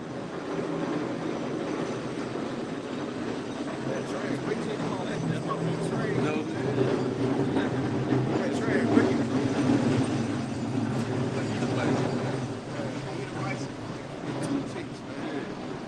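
A train passes by outdoors in New Orleans with a steady, broad rumble and rattle that swells slightly midway through the sixteen seconds. People talk faintly beneath it.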